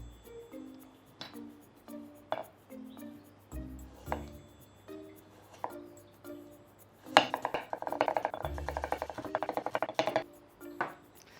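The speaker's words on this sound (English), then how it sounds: "Now we are done chopping up the veggies and we can start to saute." A knife chopping shallots, celery and carrot on a cutting board, sparse single knocks at first, then a fast, dense run of crisp chops close up near the end.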